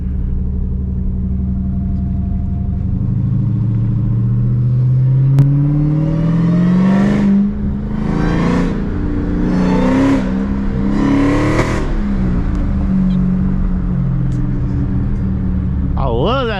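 Inside the cabin, a 1200hp Dodge Hellcat Striker builds a deep rumble that rises into several hard acceleration pulls, the roar climbing in pitch with each pull and then easing off between them.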